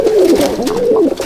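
A Madrasi pigeon coos close by in a loft, one loud, throaty, wavering call rolling up and down in pitch for just over a second.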